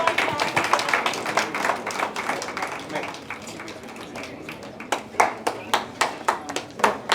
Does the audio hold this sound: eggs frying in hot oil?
no